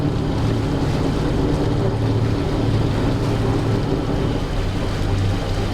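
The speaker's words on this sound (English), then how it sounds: "I revved up this engine a little bit. Sounds like vibration, right?" Boat engine with a broken engine mount revving, a loud, steady rumbling drone with heavy low vibration and constant wash of water and wind noise, continuous and close.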